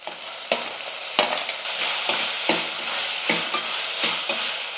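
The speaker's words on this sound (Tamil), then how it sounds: "இஞ்சி பூண்டு பேஸ்ட்டு சேர்த்து நல்லா கலந்து விட்டுட்டு அது கூடவே நம்ம தக்காளி சேர்த்துக்கிட்டால்" Onion, tomato and ginger-garlic paste sizzle steadily in a hot pan, with regular scraping stirs of a spatula cutting through every half second or so, close and fairly loud, no voices.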